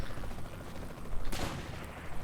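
Gunfire in the video game Saints Row 3, a short burst of shots standing out briefly over a busy, noisy game soundscape.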